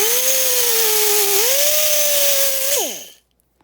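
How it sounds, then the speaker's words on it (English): A power sander grinds steadily against a fork, a continuous motor whine that dips briefly, rises again, then winds down and stops near the end. "So what I do, so I'm just going to sand it here."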